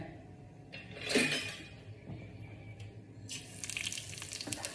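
Mustard seeds, urad dal and chana dal spluttering in hot oil, with a soft crackling sizzle that rises in a few short bursts, faint and close, and no talking.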